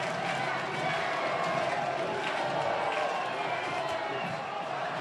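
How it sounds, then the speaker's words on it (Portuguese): Atlético de Alagoinhas football supporters roar continuously in a stadium during a Baianão match, a steady dense crowd din with faint chanting and no clear breaks. "Ouça o grito da torcida do Atlético!"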